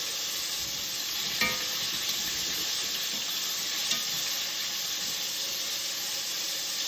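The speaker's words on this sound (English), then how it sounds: "Give it a second to all fry." Chicken pieces fry in hot oil with a steady, dense sizzle that holds for the whole stretch, broken only by a few faint clicks and pops. No one speaks.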